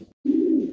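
Fancy pigeons, including Danish breeds, kept for sale in Bangladesh give a single low, throaty coo close by, beginning after a brief silence and holding steady for about half a second.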